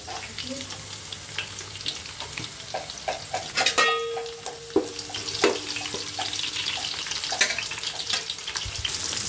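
Garlic hitting a hot frying pan during home cooking of an onion and mutton curry, giving a steady near sizzle with bursts of crackle, some metallic clinks and faint running water behind.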